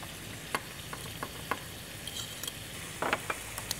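Shrimp sizzling in a pan while being stirred for a garlic shrimp dish, with a steady quiet frying hiss broken by scattered clicks and scrapes of a utensil against the pan.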